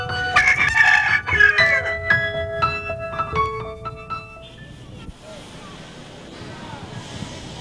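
A handsome fighting rooster crows with a long drawn-out call over a murmur of background noise, and a speaking voice can be heard alongside it before the sound fades to a quieter, windy hush.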